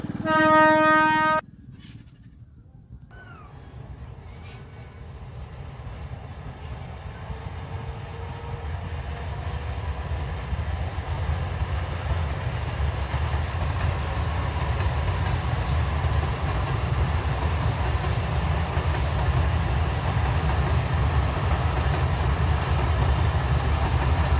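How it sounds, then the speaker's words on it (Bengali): A train passes close by near a station on a foggy morning: a brief horn blast opens, then a loud, steady rolling rumble of wheels and cars continues to the end. "ট্রেন আসার সময় হয়ে গেছে চলো একটু ট্রেন দেখে নিই আমরা"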